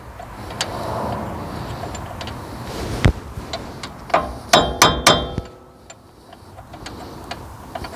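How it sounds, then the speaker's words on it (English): A hammer strikes metal while work is done on a Ford Ranger hub bearing, giving a sharp hit followed by a quick cluster of ringing clangs, close up with faint background noise. "Grab the hammer."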